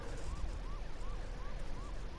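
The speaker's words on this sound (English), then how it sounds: "put his sirens on, make sure people knew he was there" A wailing vehicle siren in the online battle game H1Z1, rising and falling in a steady repeating sweep, moderately loud and slightly distant over a low engine-like rumble, with no talk.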